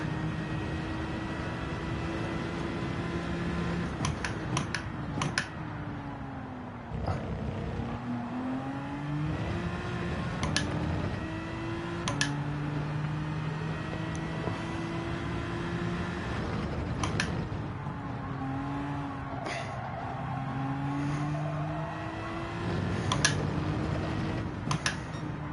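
Aston Martin Valkyrie V12 in Gran Turismo 7 during GT3 lobby racing, engine howling and rising through gears with repeated upshift drops, steady moderate racing engine drone over the whole stretch, no talk.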